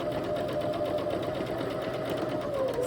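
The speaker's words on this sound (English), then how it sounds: "Now I'm just going to zigzag really close to the edge." A sewing machine zigzag-stitches along the edge of thrifted t-shirt fabric with the presser foot against the edge, running as a steady, continuous close-up whir for the whole stretch with no talk.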